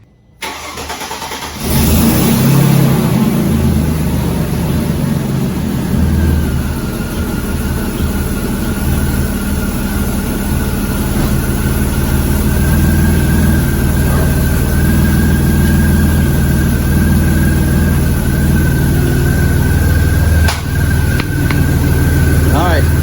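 A supercharged Mercedes C32 AMG engine cranks and catches after a brief silence, then idles steadily and loudly with a deep rumble and a faint whine, slightly uneven, with a quick blip near the end.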